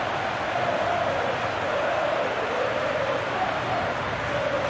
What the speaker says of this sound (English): This crowd has come alive!